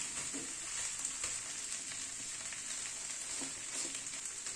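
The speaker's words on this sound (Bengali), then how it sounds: "এবার পুরো মশলাটাকে একটুখানি কষিয়ে নেব।" Spice paste fries and is stirred in a pan, a steady close sizzle with soft scraping and stirring clicks throughout, no voices.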